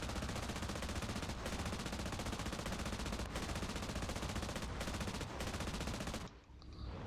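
SU-2 aircraft machine gun blazing in War Thunder, a loud continuous rattling burst lasting several seconds with brief gaps, cutting off abruptly near the end.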